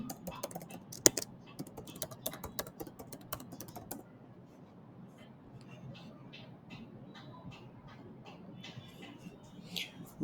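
Computer keyboard keys click in quick close bursts while an email address is entered, the taps fainter and sparser after the first few seconds, with a low background hum and a brief voice under the typing.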